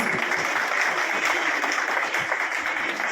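Steady crowd applause fills a Holi celebration gathering, dense continuous clapping heard close and evenly sustained from start to finish.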